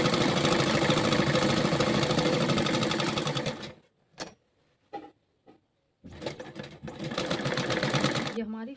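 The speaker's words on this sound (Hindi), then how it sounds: "हम इसकी दूसरी सिलाई भी लगाते हैं ताकि हमारा सिलाई खुले ना।" A sewing machine runs a second seam on an A-line kurti with a flat collar, a loud fast whirring burst that stops, gives a few short clicks and taps, then starts up again near the end.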